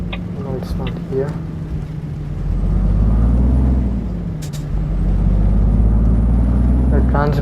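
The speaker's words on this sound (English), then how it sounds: "The transmission sound of this bus is really awesome" A Neoplan Starliner bus in Euro Truck Simulator 2 drones with a deep, steady engine and transmission hum that swells and eases as it drives, with a brief sharp hiss midway and short bits of talk over it.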